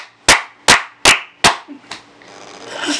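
Four crisp, evenly spaced hand claps ring out close and loud, followed by a softer clap and a rising wash of noise.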